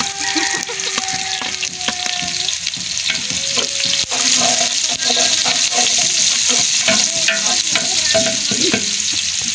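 Garlic sizzles and crackles in hot oil in a large cauldron at an outdoor community feeding program, with continuous loud frying and the scrape of stirring close by.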